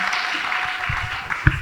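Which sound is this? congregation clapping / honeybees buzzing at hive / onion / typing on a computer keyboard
congregation clapping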